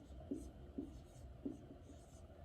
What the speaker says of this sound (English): I'm going to write out the numbers that I'm working with.